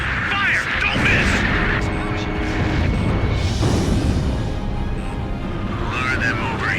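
Combat noise from the Ace Combat 5 fortress mission: dense, continuous gunfire and booming artillery under voice radio chatter.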